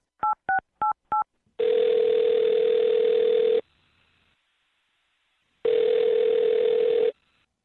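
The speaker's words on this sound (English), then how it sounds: "I'm going to dial her number right now." Four short touch-tone beeps from a telephone keypad, then long steady ringback tones separated by silence, loud and close.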